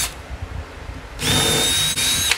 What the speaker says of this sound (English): we do want to drill a pilot hole, because if you don't, you'll split the wood